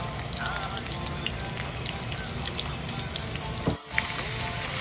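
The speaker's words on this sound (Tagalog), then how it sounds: "magigisa muna po tayo ng ating bawang at ang ating sibuyas" Garlic and onion sauté in a hot pan for pancit, a steady close sizzle and crackle that runs unbroken apart from one short dip near the end.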